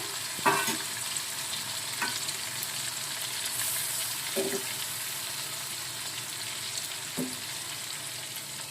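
Ginger and garlic paste with cumin paste and spices sautéing in a pan for ghugni, a continuous close sizzle broken by a few sharp spatula scrapes and stirs, no voices.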